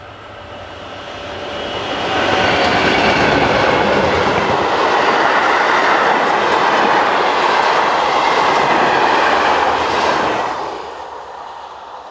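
A car train passes on the railway, rumbling in from near silence, rising to a loud steady roar of wagons rolling by with clattering wheels, then fading away at the end.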